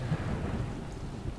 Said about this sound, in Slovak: Však je búrka, kam pôjdeme?